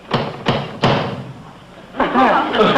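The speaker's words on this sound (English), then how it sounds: "And he knocks on the door." Three firm knocks on an apartment door in a 1966 sitcom, evenly spaced and close, followed by people talking.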